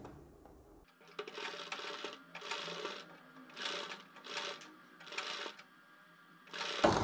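A sewing machine stitches folded fabric strips for a neckline design in a series of about five short, quiet bursts with brief pauses between, close up and alone.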